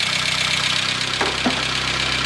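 A cold 1989 Nissan Pao engine idles at a raised, revved-up speed, a steady close-up rumble with a faint rhythmic knock running throughout.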